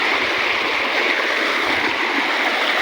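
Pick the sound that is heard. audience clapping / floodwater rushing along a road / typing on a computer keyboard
floodwater rushing along a road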